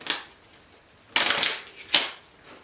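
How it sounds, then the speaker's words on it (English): A deck of Pandemic infection cards is shuffled in three quick, crisp riffling bursts, close and clear with short pauses between them and no talking. "shuffle the infection discard pile"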